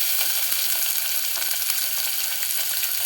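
Mixed legumes — peanuts, black-eyed peas, split moong dal and moth beans — sautéing in a hot pan for a grain pulao, a steady close sizzle and crackle with light stirring throughout.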